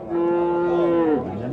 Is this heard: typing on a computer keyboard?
no